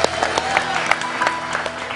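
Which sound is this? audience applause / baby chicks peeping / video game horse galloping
audience applause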